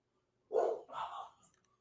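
A big dog gives a couple of short, deep barks close by, with a quick follow-up yip, against otherwise quiet surroundings.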